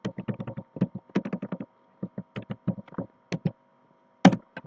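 Quick clicky keystrokes on a computer keyboard come in short bursts separated by brief pauses, close and clear, with no voices.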